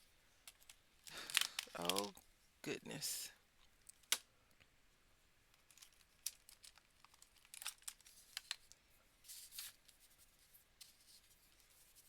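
Paper rips and crinkles in short, sharp bursts, loud at first and then in scattered lighter rustles, with a woman's brief exclamation.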